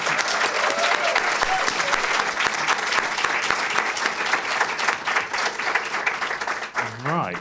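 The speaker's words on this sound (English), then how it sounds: "Can we get a round of applause for these panelists?" Audience applause for conference panelists fills the room, dense and steady clapping from a large crowd throughout, with a brief voice near the end.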